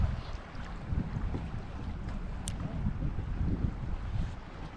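Wind blowing across a riverbank during perch fishing, a low rumbling gusty roar buffeting the microphone steadily and fairly loudly, with no clear voices.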